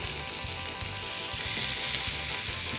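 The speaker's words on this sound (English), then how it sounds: "So hopefully we get that nice sizzle." Chicken sizzles in a cast iron pan, a steady crackling hiss with occasional pops, moderately quiet and without speech.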